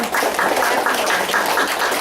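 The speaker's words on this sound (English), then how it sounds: "Can we have another round of applause" A round of applause from an audience at a community gathering in Lakeside, California, with brisk, dense clapping that stays constant and fairly loud for its short length.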